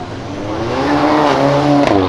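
A Ford Fiesta accelerates past with a rising, revving engine note that climbs smoothly in pitch and holds loud and close to the end.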